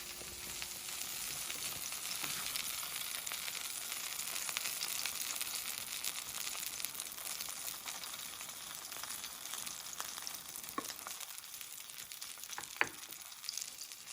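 Salmon sizzling in a pan while being basted, a steady close crackling hiss with occasional spoon clicks, no talking.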